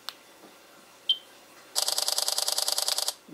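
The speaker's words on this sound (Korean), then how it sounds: "다시 촬영 버튼으로 설정을 하고 사진을 찍어 보겠습니다" A Samsung Galaxy Note 3 phone camera fires its shutter: one faint click, then a rapid burst of about a dozen evenly spaced electronic shutter clicks lasting over a second, close and clear with no talk.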